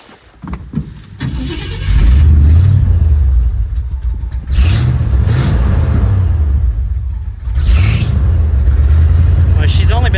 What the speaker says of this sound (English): So let's crank this thing up now and see how she runs after the new plugs.